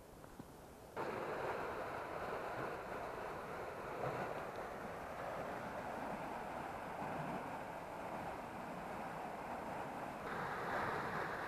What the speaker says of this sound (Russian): Шум, слышите, какой шумит? Лед, вода,